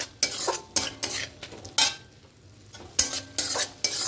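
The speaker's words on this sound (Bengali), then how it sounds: "এভাবে একটু ঘেঁটে দেবো, তাহলে শুকনো শুকনো হয়ে যাবে" A spatula scrapes and knocks in quick, uneven strokes through bitter gourd and potato chorchori drying in a pan, each stroke a crisp close rasp over a faint sizzle, with brief pauses between.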